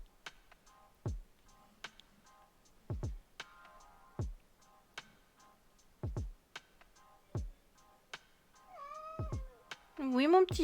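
A cat meows several times in short, clear calls, some rising and wavering, close by over a quiet room with faint ticking and a person speaking softly.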